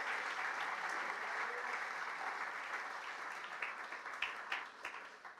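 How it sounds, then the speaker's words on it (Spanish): A church congregation applauds during a Spanish-language sermon, steady dense clapping that holds for several seconds and then thins out toward the end. "Dele un aplauso al Señor si usted lo puede creer"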